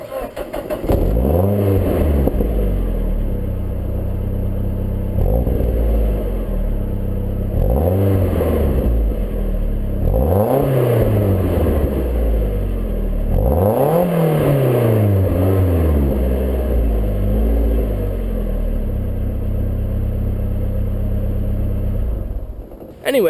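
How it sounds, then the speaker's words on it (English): Mazda Miata NB with a Cobalt dual tip muffler starts up and idles close by, then gets blipped through four or five sharp revs that rise and fall back to a steady idle. "I'll do a start right now and some revs just so you can get a feel in general for what it sounds"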